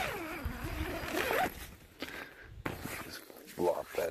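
A zipper runs along the door of a Snugpak Scorpion 2 tent in coyote tan, a few quick rasping pulls heard up close while a person talks over it.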